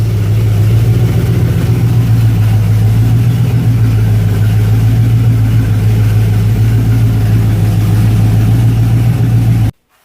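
A Ford Mustang engine idles steadily and close up in a garage during timing and tuning work, holding a loud, even low rumble with slight variations. There is no talking, and the sound cuts off abruptly at the end.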